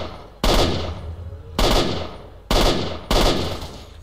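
Gunshots in S.T.A.L.K.E.R.: Shadow of Chernobyl, four loud, close single shots at uneven intervals, each a sharp crack followed by a decaying echo.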